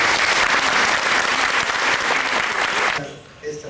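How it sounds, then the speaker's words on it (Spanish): Audience applause for the ambassador at a lecture series on ancient Egyptian sacred symbolism, heard as loud, sustained clapping from a full crowd that drops away abruptly near the end. "para quien pido un fuerte aplauso"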